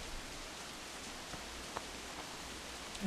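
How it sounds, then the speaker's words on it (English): Soft, steady rain in the video game Assassin's Creed IV: Black Flag hisses continuously, with a few faint drips and pops standing out above the even patter. "Oh, it's raining, great."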